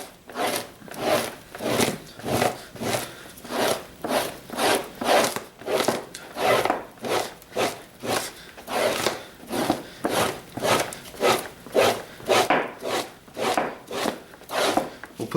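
A fleshing tool pushes fat off a cold coyote pelt in steady repeated strokes, each a rough scraping rasp about every half second, close and continuous with no talking.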